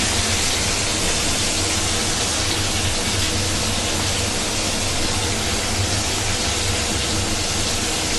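Bhola fish fries in hot oil with a loud, dense, unbroken hiss that stays even and close throughout, with no talking.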